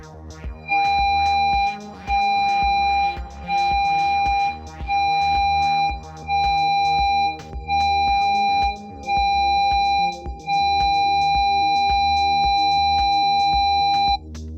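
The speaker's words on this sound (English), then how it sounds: "The sound signal for general and man overboard is 7 short and 1 long signal" A hovercraft's loud electronic general alarm sounds seven short tonal bursts then one sustained long tone, steady and close with no talking.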